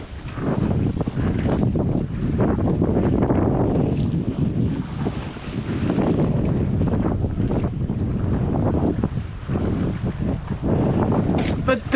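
Steady wind buffets the microphone with a broad roar at sea, while water washes and slaps against a small sailboat throughout, loud and close.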